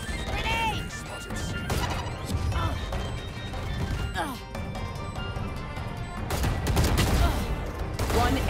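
A grenade blast in an online first-person shooter, landing as a loud crash among scattered gunfire and impacts, with excited players shouting over it.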